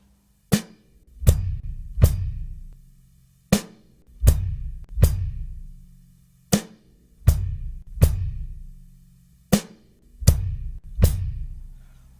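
Drum kit groove played on snare, bass drum and hi-hat, each sharp snare crack followed by bass drum thumps in a steady eighth-note pattern, close and clear, repeating about eight times with no talking.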